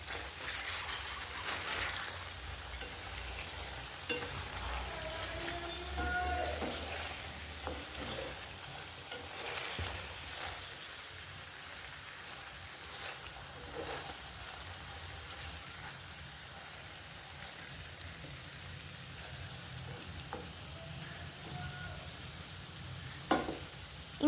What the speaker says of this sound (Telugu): ఇంకొద్దిగా ఒక 5 మినిట్స్ అయితే ఫ్రై చేసుకున్నాను